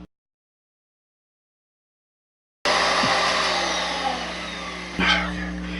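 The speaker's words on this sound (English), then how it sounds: "Next thing to do is to vacuum up all the excess." A vacuum cleaner switches on after a silent stretch and runs loudly and steadily, sucking excess dried dirt off model railroad scenery, with a brief bump in the whine near the end.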